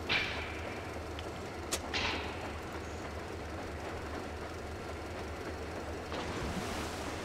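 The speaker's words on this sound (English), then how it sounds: "the train cars are fucking strange to operate" A train car rolls along in the video game Metro Exodus, giving a steady low rumble of wheels on rails with a couple of brief metallic clanks early on, no talk over it.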